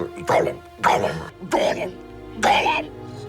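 A human voice imitates a cat convulsing to cough up a fur ball: four harsh, hacking throat bursts spaced about a second apart, close and loud.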